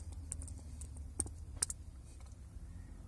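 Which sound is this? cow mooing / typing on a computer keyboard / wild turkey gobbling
typing on a computer keyboard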